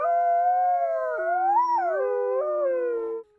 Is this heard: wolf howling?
yes